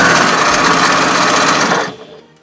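A big sewing machine stitches a dog bow tie in a rapid, loud, continuous whirr close by, then stops just before the end.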